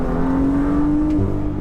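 A tuned Stage 1 BMW M2 revving loudly up close, its engine note holding steady then dropping, with exhaust burbles likely mixed into the continuous rumble; no voices.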